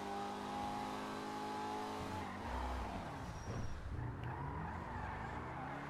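A car in the video game GTA 5 drives fast with a steady roaring engine and a pitch that rises and falls as it speeds along, plus tire noise, close and loud with no talking.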